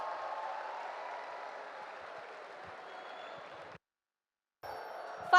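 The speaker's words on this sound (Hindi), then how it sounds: "Please give a huge round of applause" An audience applauds to welcome Shri Rajat Sharma onto the stage at a leadership event, a steady wash of distant clapping that cuts out briefly and then resumes.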